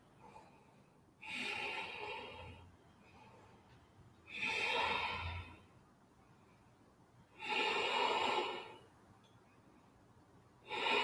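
Heavy breathing during a heart-opening yoga pose, three long, loud, airy breaths spaced several seconds apart with quiet pauses between them.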